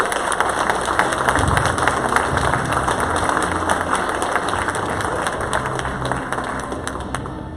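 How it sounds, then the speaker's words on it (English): An audience applauds to welcome speaker Stacy Allen at a conference in San Diego, with dense, sustained clapping from a large crowd filling the hall and holding steady throughout, without talk over it. "Please give her a round of applause for her."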